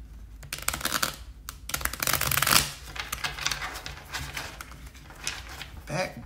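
Tarot cards are shuffled close to the microphone in quick riffling bursts and slaps, with one louder riffle midway and brief pauses between bursts, and a voice talking faintly at times.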